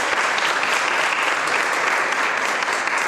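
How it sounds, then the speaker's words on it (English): A dense, steady wash of audience applause at a moot court competition's valedictory, loud and sustained throughout with no pauses or voices. "Round of applause to Professor Azad."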